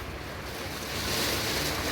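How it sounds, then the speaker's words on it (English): Heavy, windy rain beating against a window pane on a rainy day in Barbados, a dense continuous roar that swells slightly midway, close and loud with no talk. "You can hear the sound of the rain."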